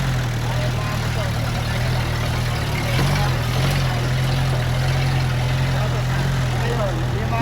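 Motorcycle engines idling nearby on a road toward Baraka limestone, a steady low rumbling drone that holds constant throughout, with people talking over it.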